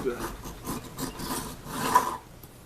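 A hand file rasps across the wooden fretboard of an old Kraftsman mandolin under restoration, in several uneven back-and-forth scraping strokes that swell and fade, close and fairly quiet with no voices.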